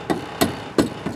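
Four sharp metallic taps of a hammer folding a metal tab during control arm replacement on a 2011 Hyundai Elantra Touring, evenly spaced and close by, with no talking.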